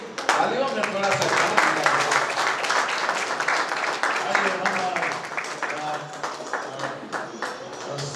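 Audience applause at a Christmas celebration held by an evangelical association in Raipur, a dense, steady wash of many hands clapping from start to finish, with speech-like sound mixed in.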